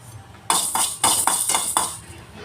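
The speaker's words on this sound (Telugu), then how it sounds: "ఈ మెంతులు అనేది నేను వేపుకుంటున్నాను" Fenugreek seeds frying and being stirred in a metal pan, giving a series of sharp clinks and rattles in quick succession, close and fairly loud, with a hissing sizzle between strokes.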